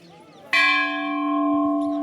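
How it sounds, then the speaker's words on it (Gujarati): A single loud strike of a large temple bell, ringing out with a sustained metallic tone and long decay, set outdoors at a riverside temple at Poicha, Gujarat. "આપણે એક વખત ઘંટ વગાડી જઈએ"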